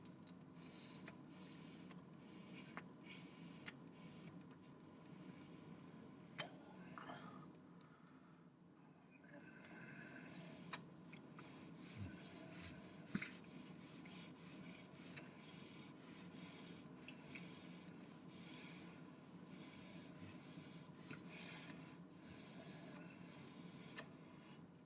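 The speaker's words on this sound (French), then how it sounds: "par l'intermédiaire du drip tip, vous allez souffler et aspirer plusieurs fois assez fortement" Repeated hard blowing and sucking through the drip tip of a pierced vape cartomizer, giving a series of short, breathy, hissing bursts with brief pauses between them, close by, with a quieter stretch midway and no talking.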